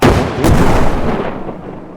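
Two loud, deep explosion booms follow each other closely, used as a sound effect; the second one trails off in a long rumble.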